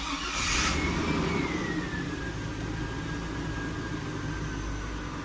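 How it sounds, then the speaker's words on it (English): A Chevrolet Silverado pickup with start-up problems fires up, a brief burst of cranking settling into a steady mid-pitched engine idle with a faint rising whine, heard alone without talk. "So let's turn the vehicle on."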